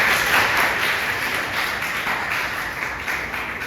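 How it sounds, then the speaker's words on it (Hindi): Audience of students at a girls' college in Lucknow clapping for a classmate during a motivational session, a steady wash of applause that holds evenly throughout. "इनके लिए भी तालियां हो जाए।"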